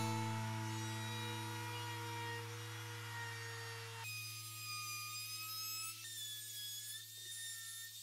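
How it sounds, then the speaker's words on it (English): A router cuts a chamfer along the bottom edge of a wooden tabletop for a mid-century modern end table, giving a steady, loud, high-pitched whine that holds throughout and shifts pitch slightly as the cut progresses. "routing a chamfer on the bottom edge"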